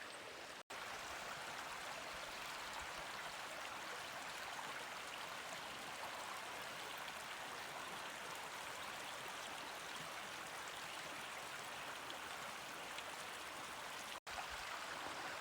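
A mountain creek flows steadily beside a trail on the Ouachita National Recreation Trail, a constant broadband rush of water that runs unbroken and fairly loud throughout, with no voices.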